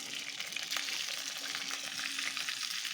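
Okra sizzles and crackles in hot oil in a pan, a dense, continuous hiss with faint stirring scrapes, close and moderately quiet.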